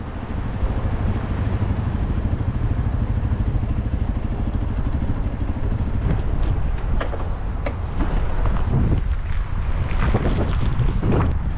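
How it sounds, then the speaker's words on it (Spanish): Strong wind buffets the microphone at a helipad during the Dakar 2023 rally, a loud continuous low roar with gusty rumble throughout, plus a few sharp clatters and knocks near the end. "hace un viento de muerte"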